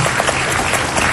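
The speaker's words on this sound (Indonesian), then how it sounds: "Tepuk tangan buat mereka semuanya di sini." Studio audience applause on an Indonesian television talk show, a steady dense wash of clapping that holds at an even level throughout without pauses or voices on top.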